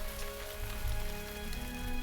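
Steady rain pours in the visual novel Norn9, a dense, even hiss of drops on a surface that runs unbroken and fairly loud, with no voices over it.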